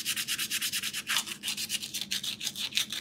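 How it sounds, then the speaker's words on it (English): Medium grit sandpaper rubbed by hand around a cut hole in a wooden birdhouse plaque, a close, steady back-and-forth scratching with about a dozen quick, even strokes and no talking. "do a little bit of sanding around the hole."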